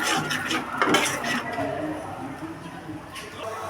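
Masala for egg korma is stirred and fried in a pan, with a soft sizzle and spoon scraping and clinking against the metal, while someone talks over it throughout.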